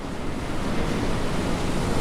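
Continuous ocean surf washes through the World War II naval game Battleship Command, a dense, even roar of breaking waves and wind with no pauses, loud and steady throughout.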